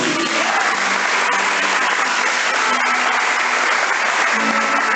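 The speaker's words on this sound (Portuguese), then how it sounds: "Aplauda o Senhor Jesus." Congregation applauding in a church during a Portuguese-language sermon, a steady, dense wash of clapping that holds loud for the whole stretch, with faint crowd voices mixed in.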